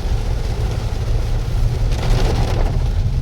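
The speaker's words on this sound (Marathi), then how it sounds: "पाऊस एकदम फील तर छान आलाय" Monsoon rain in Goa falls at night as a steady, dense hiss with a low rumble beneath, loud and continuous throughout with no voices.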